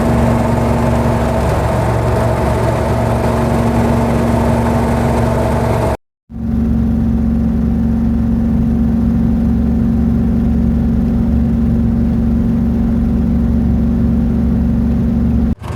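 Duzgo off-road vehicle with no sound deadening, its engine running loud and steady with a constant drone, broken by a brief cut near the middle before resuming just as loud.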